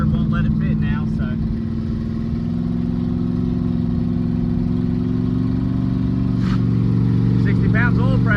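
A Ford Coyote V8 with a carburetor spacer and the hood removed rumbles steadily at low revs while cruising up a road, a loud continuous engine drone throughout with a voice talking over it.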